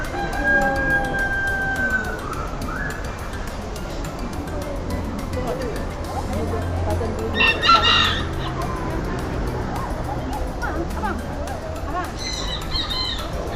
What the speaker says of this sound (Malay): Tu ayam, burung.